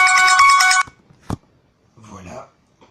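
A phone ringtone rings loudly in a short, dense electronic trill lasting under a second and then cuts off, followed by a sharp click and brief muffled talk.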